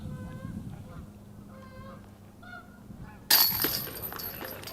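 Geese honk in a series of short, nasal calls, fairly close, on a disc golf course, before a sudden loud rush of broadband noise cuts in and continues.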